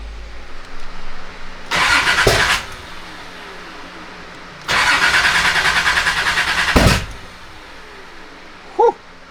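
A built Nissan 300ZX engine with no exhaust cranks in two loud, whirring bursts separated by a pause, with a dog barking once faintly afterward.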